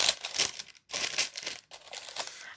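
Crinkly paper and wrapping torn open from a Christmas gift box of beauty products, in quick rustling bursts with brief pauses, close and moderately loud.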